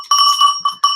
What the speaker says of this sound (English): Like a cowbell.